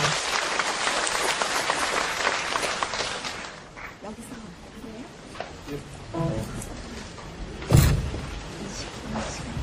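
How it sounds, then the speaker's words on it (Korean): Lecture-hall audience applauds to welcome Professor Kim Hye-young as a speaker, a loud broadband clapping burst for the first few seconds that fades out, followed by quieter talk with a brief louder knock near the end. "김혜영 교수님을 큰 박수로 환영해 주시기 바랍니다."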